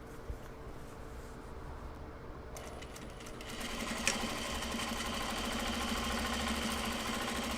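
A sewing machine stitches twill denim for a Japanese-style gyoza bag, a steady close mechanical whirring that picks up slightly in speed and loudness partway through, with a single sharp click.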